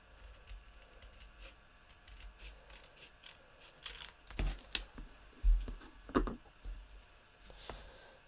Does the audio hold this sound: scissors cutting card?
yes